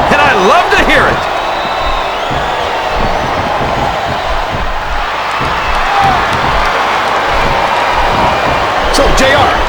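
A capacity arena crowd roars and cheers during a wrestling match in the video game WWE Smackdown vs Raw 2007. The loud, steady crowd noise stays constant throughout, with an announcer's voice talking over it.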